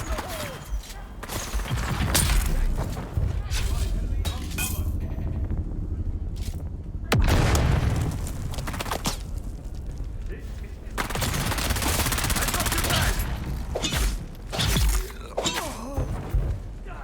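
Bursts of SMG gunfire in the video game Dune: Awakening, rapid dense volleys and impacts recurring across the clip amid loud combat noise, with some talk faintly underneath.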